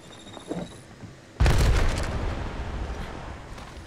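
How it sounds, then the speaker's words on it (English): An Arc Star grenade in Apex Legends Mobile goes off with one sudden loud boom, its rumbling tail fading over the next few seconds, after a short stretch of quieter game noise. "Throwing arc star."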